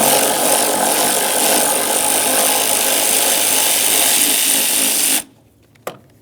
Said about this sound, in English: start removing that 13mm headed bolt